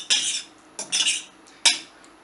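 A metal fork scraping and fluffing cooled couscous grains in a bowl, three short separate bursts of light scratching, close and fairly soft, with quiet between them.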